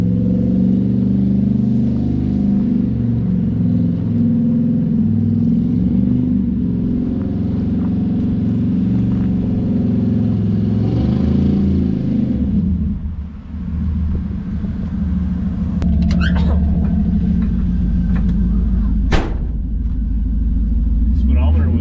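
A 1957 Chevy with an LS engine swap doing a snow burnout, a loud sustained engine roar and rumble that drops off partway before idling on, with people talking nearby.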